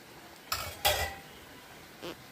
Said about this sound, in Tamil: இது நல்லா வதங்கணும். பெரிய ஃப்ளேமாகவே வச்சுருக்காங்க.